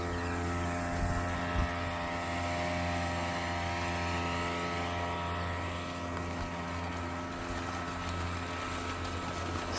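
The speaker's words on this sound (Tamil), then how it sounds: "அப்படியே பாருங்கள் மோட்டர் ஓடிக்குது பாருங்கள்" Water pump motor running steadily at a farm well among jasmine, paddy and vegetable plots, a low constant hum with a drone of layered tones, far off and faint, no talking.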